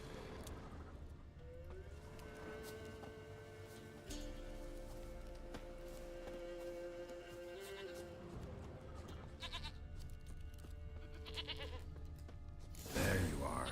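A goat bleats faintly in The Witcher 3 over a soft sustained musical backdrop, with a louder, sharper bleat bursting in right at the end.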